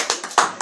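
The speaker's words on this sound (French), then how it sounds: "Oui, applaudir de temps en temps quand même." A brief burst of audience clapping during a talk on the weekly Torah portion Emor, two or three quick loud claps up close, with no talk over them.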